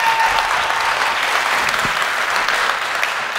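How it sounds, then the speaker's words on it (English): A large audience at Austria Comic Con bursts into loud welcome applause for a guest, a dense, continuous roar of clapping that holds steady across the whole stretch with no voices on top. "Ladies and gentlemen, give a warm Austria Comic Con welcome applause for Brian MUIR!"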